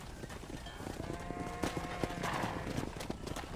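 Steady clip-clop of a horse's hooves at a ranch in the video game Red Dead Redemption, a continuous rhythmic trot with a brief whinny-like sound partway through.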